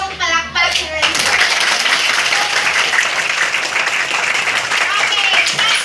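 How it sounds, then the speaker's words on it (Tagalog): A classroom audience at a student debate bursts into loud, steady applause after a brief moment of speech, the dense clapping filling the room and continuing evenly to the end. "Bigyan natin ng masigabong palakpak si Renzo."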